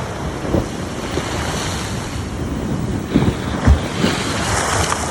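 Rough sea surging and breaking during a storm at a shoreline campsite, under heavy wind noise, with a few louder crashes standing out from the constant roar.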